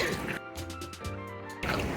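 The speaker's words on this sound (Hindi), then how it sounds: "तो अब हम इसके अंदर 1 कप पानी और डाल देते।" A cup of water poured into thin jowar dosa batter in a bowl, a short sloshing splash at close range with a voice talking over it.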